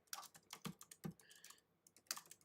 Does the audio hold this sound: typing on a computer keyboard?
yes